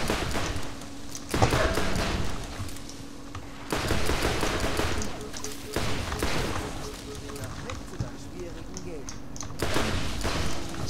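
Defiler revolver in Borderlands firing in short, loud bursts at irregular intervals, several shots over roughly ten seconds with a steady game hum between them.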